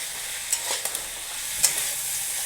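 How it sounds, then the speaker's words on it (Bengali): Vegetables fry with Chinese spice mix in a pan, a steady bright sizzle with a few sharp clicks of stirring. "এই যে চাইনিজ মশলাটা দিয়ে আমরা এখন ভাজা ভাজা করবো"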